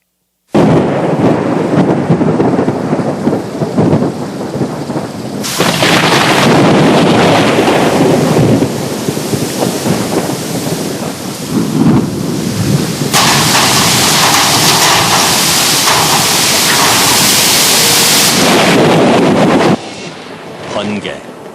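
A thunderstorm plays back loudly from a video shown during a church Bible lecture: heavy thunder rumbles and cracks over a constant wash of rain and wind that continues nearly unbroken for about twenty seconds.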